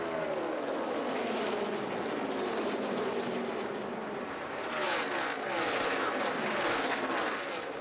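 NASCAR Nationwide stock cars at Kansas roar through a restart in a loud, steady mass of engine noise, with a rising surge of revving toward the end.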